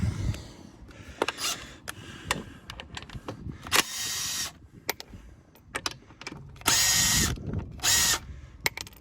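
On a Ford Mondeo mk4, a power tool whirs in short bursts while removing the wheel nuts, with the rattle and clink of nuts and other handling noises in between.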